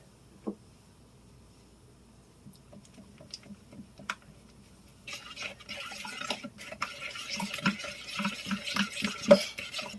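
Sugar being blended into homemade cookie batter in a mixing bowl: quiet scraping at first, then steadier swishing and clinking stir noises growing louder in the second half.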